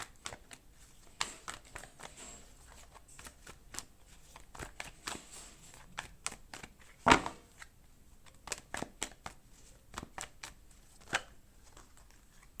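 Tarot cards are drawn and handled close by, with scattered soft slaps, flicks and shuffling rustles at an irregular pace and one sharper snap in the middle.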